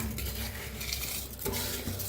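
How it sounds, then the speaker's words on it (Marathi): Scraping and soft clinking of a spoon stirring through washed jeera rice grains in a metal pot, a few quick strokes close by. "आता एकदा हलवून घेऊया आपण"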